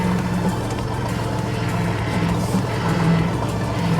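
A 1989 Chevy S10 Blazer with its old 4.3 engine driving in four-wheel low, a steady low engine drone heard from inside the vehicle, with no talking.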